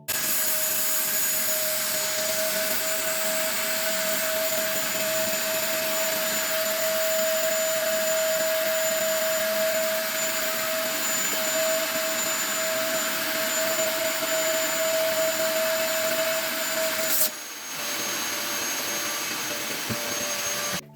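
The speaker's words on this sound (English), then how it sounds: "So that's the vacuum pack teddies you just seen being vacuumed." Teddies sealed in a vacuum storage bag as a vacuum cleaner runs loud and steady with a constant whine, cutting out near the end.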